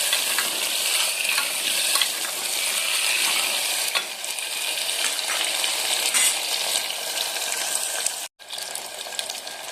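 Potatoes frying in a pan with a continuous loud hiss and sizzle, while a spoon stirs them with soft scraping through the crackle; a brief silent gap near the end.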